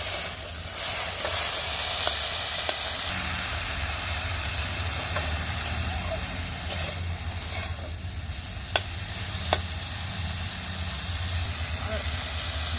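Frying in a kadai makes a loud, steady hiss and sizzle with a few scattered stirring scrapes, heard close and without talking.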